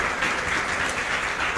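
A church congregation applauds in praise, a dense and loud wash of clapping that holds steady and stays close throughout.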